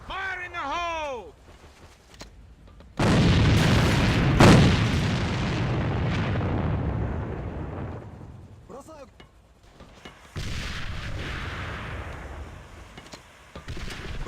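Grenade blast in the tactical shooter AVA during a competitive match: a loud, sudden boom with a long rumbling tail, followed by further gunfire and a second burst, with a commentator talking over the action.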